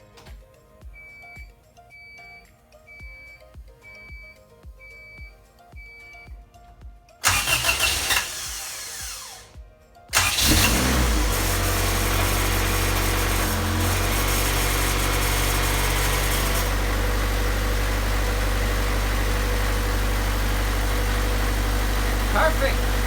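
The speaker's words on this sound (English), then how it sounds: "let's see if she cranks or turns over." A Honda CRX with a B17 engine sits with chimes beeping, then cranks for several seconds, fires up and settles into a loud steady idle close by, with someone talking over it.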